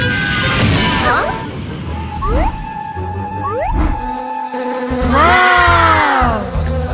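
Cartoon flies buzz in several rising and falling whines, with a squeaky voice-like sweep near the end and scattered thumps. The sounds are close and fairly loud.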